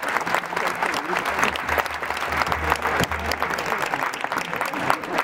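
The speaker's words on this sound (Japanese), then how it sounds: "宇田川様に盛大な拍手をお送りください。" A stadium crowd at a J1 League football match claps for a guest making the kick-in, a sustained dense wash of applause, loud and even from start to finish.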